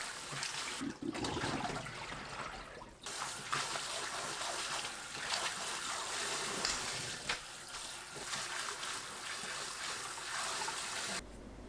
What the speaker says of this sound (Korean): 찬물에 여러 번 헹궈 뜨거운 열을 없애주세요.